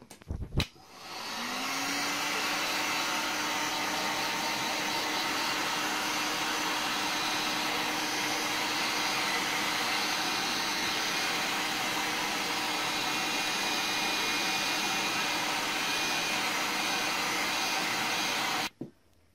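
A heat gun blows steadily for a long stretch while shrinking heat shrink tubing over a handmade digital interconnect cable, a constant close whooshing hum switched on with a click and cut off at the end.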